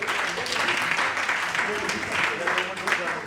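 Audience applause welcoming performers at a fashion and cultural event with poetry and children's dance, steady dense clapping under someone speaking over a microphone.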